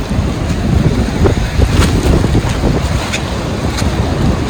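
Rough monsoon sea at Kodi Beach in Kundapura rumbles as a continuous, loud wash of surf, heavily mixed with wind buffeting on the microphone and no clear individual wave breaks.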